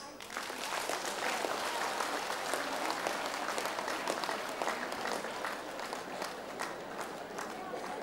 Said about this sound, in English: I request all of you to clap your hand once.